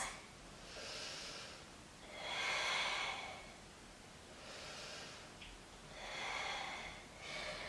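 Slow, deep breaths during a relaxation exercise for the hips, with about four soft, airy inhale-exhale swells over a faint background hiss.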